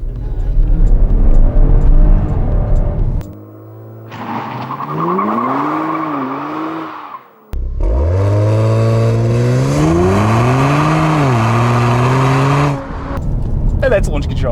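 A 2021 Kia Stinger twin-turbo launching hard under launch control, its engine roaring and rising through gear changes in two long loud surges, separated by a brief near-silent gap.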